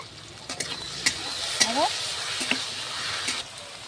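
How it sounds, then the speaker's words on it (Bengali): Potatoes fry in oil with salt and turmeric powder, a faint steady sizzle broken by a few sharp clinks of a spatula against the pan and brief stirring scrapes. "এখন আমি আলুগুলো ভালো করে ভেজে নেব"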